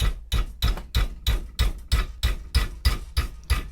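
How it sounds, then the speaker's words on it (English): A hammer taps lightly on lock-picking wire being bent into shape, about a dozen evenly spaced, bouncing metallic knocks in a steady rhythm, close and alone. "I'm almost just letting the weight of that hammer take that shape."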